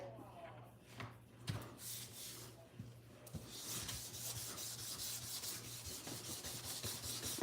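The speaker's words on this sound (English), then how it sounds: "And try to get to rub as much as I can onto the gel plate." Paper is rubbed with charcoal against a gel printing plate, giving soft, uneven scratchy strokes that turn into a steady, faint, close-up rasping in the second half.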